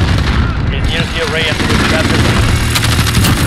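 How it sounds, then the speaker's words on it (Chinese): An automatic sentry machine gun firing in a video game: continuous loud, dense rattling fire with booming layers that runs the whole time beneath someone talking over it. "来，全自动哨兵机枪，"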